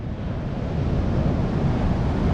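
Ocean surf crashing at high tide during a big swell, a constant heavy low rumble of breaking waves close by, mixed with wind buffeting the microphone.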